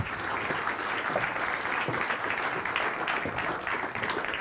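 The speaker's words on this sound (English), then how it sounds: "Let's have a round of applause." Audience applause fills a conference hall at the DBX EU MODEX conference, a dense steady wash of many hands clapping at moderate loudness throughout, with no voices over it.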